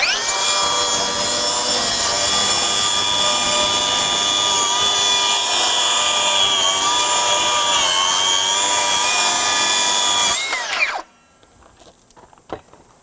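A Milwaukee Fuel 2834-20 7-1/4" cordless circular saw runs at a high, steady whine for about ten seconds, then spins down and falls quiet with a few faint clicks.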